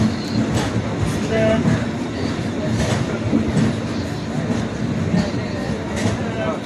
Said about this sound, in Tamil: இதுதான் காட்பாடி வழியாக திருப்பதி போகிற ட்ரெயின், மன்னார்குடி திருப்பதி பாமனி எக்ஸ்பிரஸ்